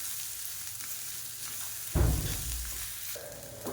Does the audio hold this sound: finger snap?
no